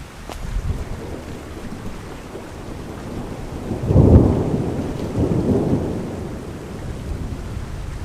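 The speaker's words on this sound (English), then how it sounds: "Here's a massive thunderstorm on a tiny little island." Massive thunderstorm over a tiny island in the far north, with steady heavy rain hissing throughout and a deep rolling thunder crash swelling midway, then slowly fading back into the downpour.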